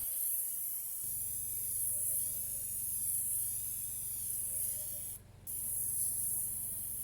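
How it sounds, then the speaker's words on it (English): A steady, close hiss of gold spray paint from an aerosol can onto a furniture stencil, running continuously with a brief pause near the end. "I chose gold for the underlying color for the stencil and spray a thin even layer."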